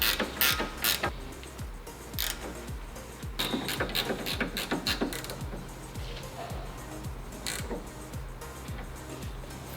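Repeated quick clicking of a ratchet snugging up nuts on the front sway bar end links of a Nissan 350Z, in irregular bursts of clicks with metallic clanks, fairly close and mostly alone.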